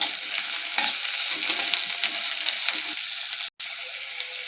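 Chopped onions sizzling in hot oil while being stirred, a steady close hiss with scraping strokes, broken by a brief cut of silence near the end.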